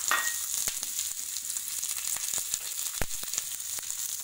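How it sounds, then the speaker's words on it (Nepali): Onions softening in hot oil sizzle in a pan for onion chutney, a close, continuous frying hiss with scattered soft clicks and taps from stirring throughout. "प्याज अलिक हल्का नरम गरेर भुट्छु"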